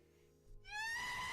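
Shrill rising scream effect with strong harmonic bands, used as a Twitch channel reward, bursting in loudly after a quiet start and holding to the end of a brief moment.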